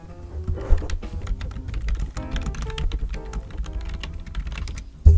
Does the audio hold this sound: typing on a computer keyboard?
yes